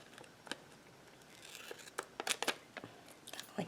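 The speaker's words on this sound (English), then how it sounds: "Let me cut one edge actually. So I'll cut one of the edges." An X-Acto knife slices along the edge of a paper planner sticker with a series of short, crisp, close scratching strokes that cluster and quicken toward the end.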